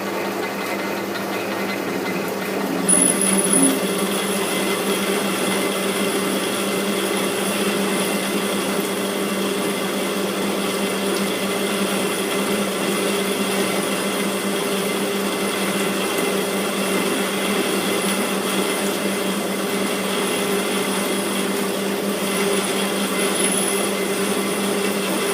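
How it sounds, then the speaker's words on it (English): Steady mechanical hum and whine of a metal lathe turning steel at its slowest speed of 70 RPM, continuous and loud throughout with a constant droning tone and no talking. "we've dropped it right down to 70 RPM. That's our slowest speeds on this lathe"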